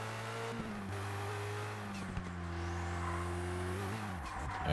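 Race car engine in ToCA Race Driver 2 at Bathurst's Conrod Straight, a sustained loud droning rev that steps through gear changes with brief pitch drops, climbing steadily under faint tyre and wind noise.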